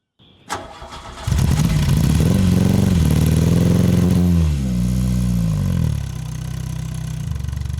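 A classic Volkswagen Golf MK1 engine cranks and catches, then settles into a loud, close running drone that rises and falls as it revs and pulls away, with no talking.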